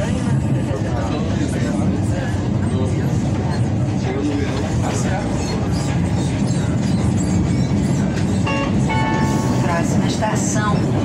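CNR 4000 series metro train running between Pavuna and Del Castilho, heard from inside a car as a loud, steady rumble with rattling and clatter, while a recorded announcement plays over it.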